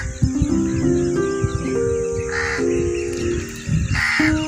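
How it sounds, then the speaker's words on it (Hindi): A crow caws in a village after rain, several loud harsh calls close by in an irregular rhythm over a soft bed of insect chirping, with no talk. "तो ये कौवा भी कुछ बोल रहा है"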